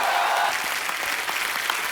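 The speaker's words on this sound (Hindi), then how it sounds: "आप सबकी जोरदार तालियों के बीच इनवाइट करना चाहूंगा" Studio audience applause on a TV comedy talk show greets an arriving guest, a brief, dense burst of clapping close and full with no voices over it.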